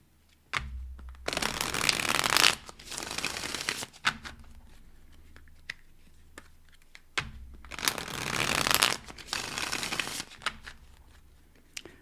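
Tarot cards being shuffled in two long bursts of riffling and flicking, close and fairly loud, separated by quieter stretches of soft handling and taps; no talking.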